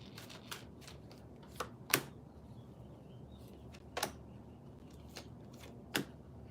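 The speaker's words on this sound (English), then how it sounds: "I'm going to pull some cards first" Tarot cards being shuffled and pulled in a quiet room, heard as a handful of sharp, isolated card snaps and flicks spaced a second or two apart over a faint background hiss, with no talking.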